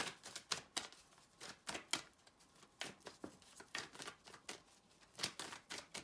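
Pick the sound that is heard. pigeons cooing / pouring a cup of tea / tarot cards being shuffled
tarot cards being shuffled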